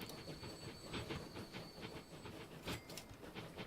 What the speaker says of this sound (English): It is a traffic jam of trains